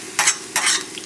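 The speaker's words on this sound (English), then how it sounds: "you're getting nice color and the butter isn't burning" Potato and spinach cakes fry in butter in a pan, giving two short bursts of crackling sizzle with a quieter simmering hiss between them, close and loud with no one talking.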